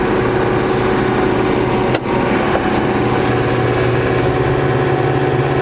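A tractor engine idles steadily in the cold outdoors of northwest Alabama, a constant low droning hum with one brief click partway through, close and with no voices.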